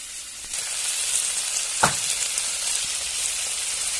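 A pan sizzles steadily as something fries with turmeric and salt, a broad hiss with one sharp clink of a utensil near the middle.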